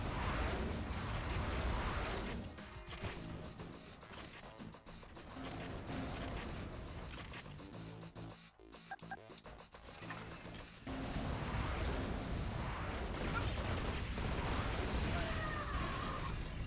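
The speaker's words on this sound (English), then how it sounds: "I should be using rockets against the turrets like I've been doing" Rockets fired at turrets in the video game Metal Arms give a dense, roaring barrage of blasts and rumbling explosions. The noise is loud and sustained, dips briefly in the middle, then swells again.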